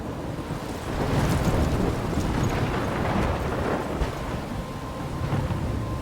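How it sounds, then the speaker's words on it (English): Thunderstorm in the video game Life is Strange, with a steady roar of rain and rushing wind and a deep rolling rumble swelling underneath, dense and loud without a break. "I'm trapped in a storm?"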